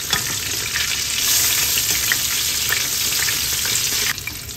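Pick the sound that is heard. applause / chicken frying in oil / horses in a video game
chicken frying in oil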